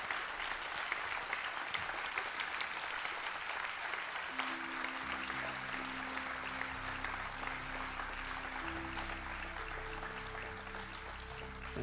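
Standing applause from a church congregation, sustained dense clapping that continues evenly, with a low sustained organ or music tone entering partway through beneath it.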